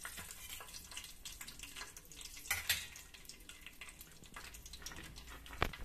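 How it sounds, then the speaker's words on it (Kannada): Whole spices sizzling and frying in hot oil in a pan for hotel-style chicken biryani, a steady crackle with occasional louder pops and faint stirring clinks, no talking. "ಸೋಂಪು, ಕಸೂತಿ ಮೆತ್ತಿ ಹಾಕಿ ಫ್ರೈ ಮಾಡ್ತಾ ಇದ್ದೀನಿ"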